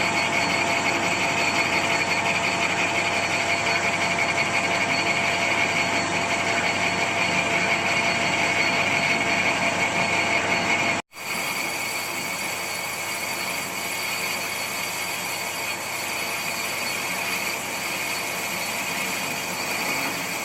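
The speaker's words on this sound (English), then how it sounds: "I think now I'm going to get a boring bar and bore this hole out so it will fit onto the drive" A lathe bores out a hole with a boring bar while machining a part for a 2-inch Fowler showman's traction engine. The steady, loud mechanical whine and hum runs continuously, cuts out abruptly for an instant midway, then resumes.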